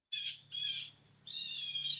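Songbirds chirp near a window, with blue jays and mourning doves in the area, giving bright repeated calls in three close bursts over a low steady hum, no talking.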